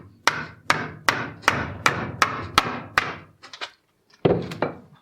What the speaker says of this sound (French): on va y aller au marteau et au tournevis